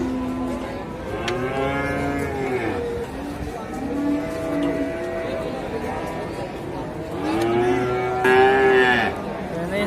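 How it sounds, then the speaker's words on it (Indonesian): Thin PO (Ongole crossbred) cattle offered for sale moo repeatedly, long drawn-out calls close by, the last one the loudest, with people talking throughout. "Ini sapi jenis PO ya?"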